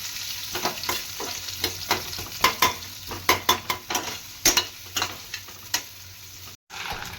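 Garlic and green chilies, added together with onion, sizzle in a hot pan and are stirred, with repeated sharp scraping clicks of the spoon over a steady close frying hiss.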